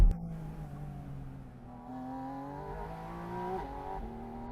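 A Porsche engine revs hard toward its rev limiter, a rising, strained mechanical howl under load. A brief shift dip comes partway through before it climbs again, heard from close in the cabin.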